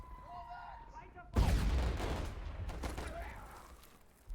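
A sudden heavy artillery boom bursts out in the Warfare Legacy war game, followed by a rumbling, crackling barrage tail, after a quieter stretch of faint game ambience.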